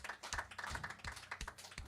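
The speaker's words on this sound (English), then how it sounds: "that deserves some applause" Audience applause in a concert hall on the 53rd year of a Friday night concert series, a short burst of close, scattered hand claps with uneven rhythm, no voices over it.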